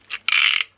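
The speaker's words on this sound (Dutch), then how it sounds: "Hier een beetje plakband." Sticky tape torn off the roll while wrapping a flower bouquet: a short rasping pull followed by a longer, louder ripping strip, close and alone.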